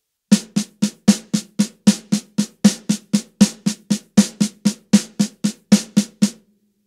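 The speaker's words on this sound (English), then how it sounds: "So you want to start off with an eighth note triplet." A drum struck in an even, steady triplet rhythm, about twenty crisp hits in a row, close and clear with no talking.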